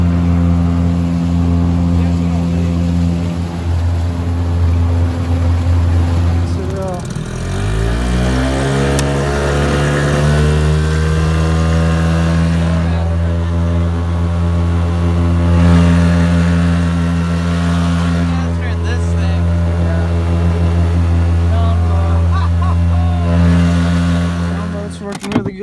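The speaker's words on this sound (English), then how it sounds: "Just launched the John boat." A jon boat's outboard motor drones steadily on the water, close and loud, its pitch dropping and shifting as it throttles around a third of the way through, then holding a sustained hum.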